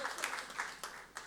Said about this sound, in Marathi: जे प्रेक्षक आहेत ज्यांनी या टाळ्या वाजवल्या